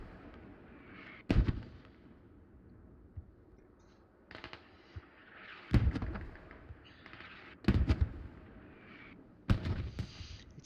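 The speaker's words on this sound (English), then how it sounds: "Getting some mortar support though." Distant mortar rounds thump in a tactical military shooter, four separate sharp booms spaced a few seconds apart, each trailing off in a rumbling echo over quiet ambient background noise.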